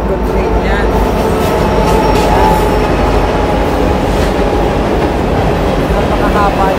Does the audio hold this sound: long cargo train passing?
yes